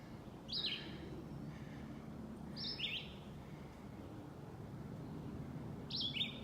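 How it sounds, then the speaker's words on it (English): A bird chirps in short bright bursts, three separate calls spaced a few seconds apart over a steady outdoor hiss. "I hear you, Mr. Bird."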